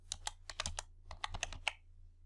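Brisk clicking of keys on a computer keyboard while entering text into a spreadsheet, about a dozen crisp close taps in quick uneven bursts with a short pause midway, quiet and with no voices.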